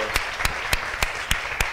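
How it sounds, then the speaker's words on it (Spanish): Church congregation clapping in short regular bursts, about six sharp claps spaced evenly, fairly close and steady with no voices over it. "Dele un aplauso al Señor."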